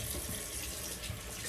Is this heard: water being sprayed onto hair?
yes